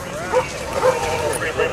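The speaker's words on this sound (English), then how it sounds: "This dog is a ballistics dog, so he can see sniffs ballistics." A police ballistics dog trained to sniff out gunpowder barks and yips in short repeated bursts at a foot pursuit, close by, with outdoor noise around it.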